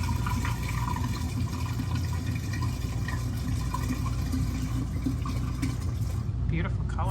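Cheap brandy pours steadily into a glass jar of smoked cherries, a continuous close liquid rush running the whole time with light trickling and splashing on top.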